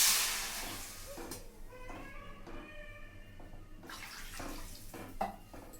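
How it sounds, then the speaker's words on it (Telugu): Three cups of water go into a pot for cooking wheat rava motichoor laddu. A splashy pour starts loud, then comes in uneven gushes and trickles over several seconds, with faint clinks between them. "అదే కప్పుతో 3 కప్స్ వాటర్ వేసుకోవాలి."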